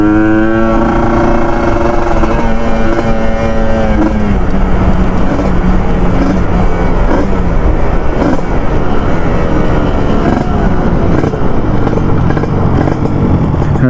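A Kawasaki Ninja RR two-stroke motorcycle engine revs loudly and continuously up close, its rising and falling harmonic whine filling the scene with no talking.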